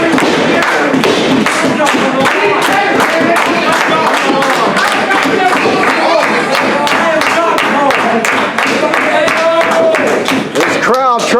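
A wrestling crowd at an RSW TV championship event cheers, claps and stomps steadily for about eleven seconds, a dense, loud roar full of rhythmic thuds.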